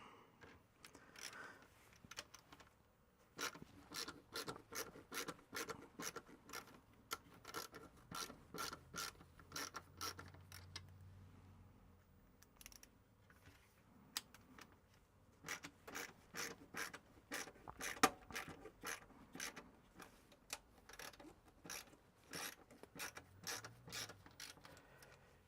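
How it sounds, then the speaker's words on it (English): A screwdriver drives screws into a new clear Macintosh SE case to cut fresh threads, giving long runs of quiet, evenly spaced ratcheting clicks with brief pauses between turns. "if you just run a screwdriver down or a screw down in there, you get your threads all set up nice"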